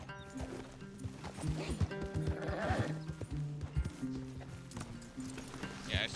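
Horse hooves clip-clop in a steady rhythm alongside a short neigh in Red Dead Redemption 2, with game music and sound effects around them.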